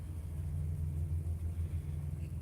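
Truck engine rumbling inside the cab while driving, a deep steady low drone with slight undulation, fairly loud and constant, with no voices.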